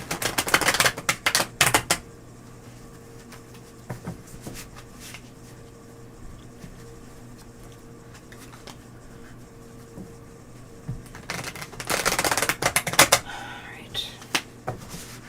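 Tarot cards are shuffled against a table in two short rustling, rapid bursts at the start and near the end, separated by a quiet stretch with faint room noise.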